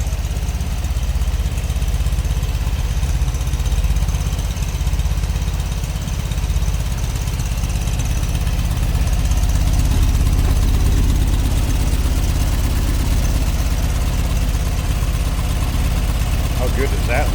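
A 1970 VW Beetle street rod with a 1650cc air-cooled flat-four and dual carbs idles close up, a steady, even, loud rumble throughout with someone talking over it.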